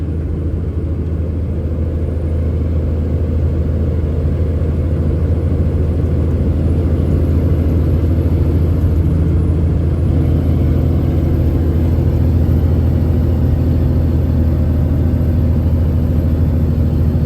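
A truck engine labors up Sweetwater Hill under heavy load, producing a steady, loud, continuous rumble and drone that holds for the full stretch with no breaks and no voices.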